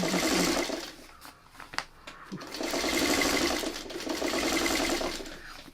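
A sewing machine stitches a quilt block in two bursts of steady whirring, with a brief pause and a click in between. The machine sounds close and fairly loud.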